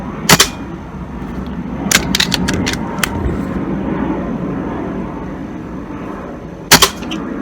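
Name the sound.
gun shooting from a magazine during chronograph test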